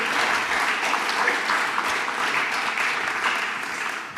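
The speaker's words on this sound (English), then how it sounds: "I think a round of applause would be more than" Steady audience applause in a church hall after a Sunday talk at All Saints, a dense even wash of many hands clapping that continues throughout and tails off slightly at the end.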